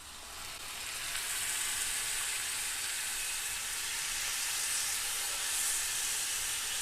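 Onions sautéing in a pan give off a steady, bright sizzle that builds in the first second and then holds as a continuous hiss with no talking.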